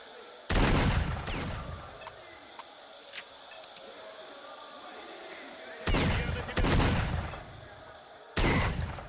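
Gunfire in the game S.T.A.L.K.E.R.: Shadow of Chernobyl: three loud, sharp shots spaced several seconds apart, each with a ringing tail, over a quiet ambient background.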